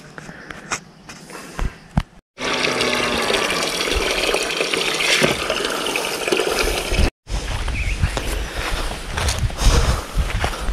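Water drawn from a village well, heard as pouring and gushing into a container with faint mechanical creaks and rattles, loud and continuous after a few knocks, briefly cut twice.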